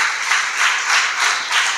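A church congregation claps together in praise during a pastor's worship service, a steady rhythmic crowd applause pulsing in waves and filling the room without any voices over it.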